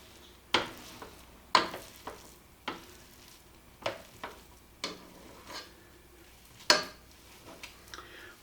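Hamburger meat browning in a pot for a one-pot cowboy soup, a steady low sizzle broken by about ten sharp scraping chops and stirs at irregular intervals, close and moderately loud with no talking.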